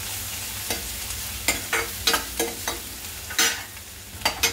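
Daal bati ingredients being sautéed and stirred in a pan, with repeated soft scraping and clattering strokes over a low, steady sizzle, close up and with no talking.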